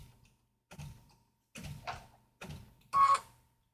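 A sewing machine stitches a satin stitch in four short mechanical bursts, each about half a second long with quiet gaps between them. It is close and moderately loud, the last burst the strongest.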